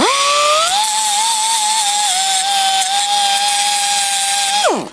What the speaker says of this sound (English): what I tend to use is a die grinder